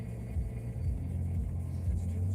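A car cruising along a road, heard from inside as a steady low rumble of engine and tyre noise that holds constant and fairly loud throughout, with no talking.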